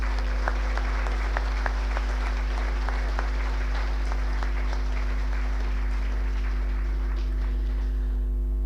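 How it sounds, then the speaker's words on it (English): A banquet hall crowd at a hurling club's celebration dinner gives sustained applause, steady and fairly loud, slowly fading toward the end, with no talking over it. "a special round of applause is due to the members of that finance and development committee"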